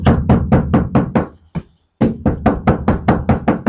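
Rapid knocking on the ceiling panel of a Hyundai Stargazer car, a fast steady run of close hollow thuds with a brief pause, then the knocking resumes at the same pace.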